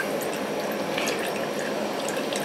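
Distillate running steadily from a 4-inch flute moonshine still during a second distillation run, a continuous close trickling and splashing of liquid with no pauses and no voices.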